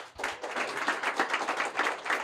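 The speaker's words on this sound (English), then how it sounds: "Guys, round of applause for Brady." Clapping from a small audience at a gym-business podcast or talk, steady and fairly close, with a thin, modest sound, as if only a few people are clapping.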